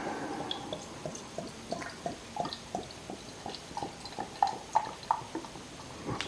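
Bitter ale, a Long Man Best Bitter, pouring into a glass: soft repeated splashing and dripping pulses of liquid, fairly quiet and close, with no talk over it.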